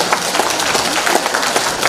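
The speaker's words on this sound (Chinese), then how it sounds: "大家掌声献给我的老同学" Warm applause fills a concert hall at a Yue opera concert in New York, a continuous wash of many hands clapping, loud and steady with no talk over it.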